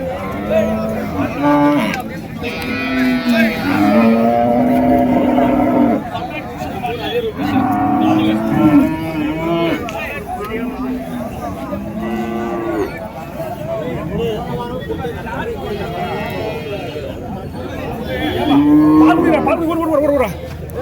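Cattle moo loudly and repeatedly at the Orappam cattle market in Krishnagiri district, with long, drawn-out calls close by over steady crowd chatter and people talking.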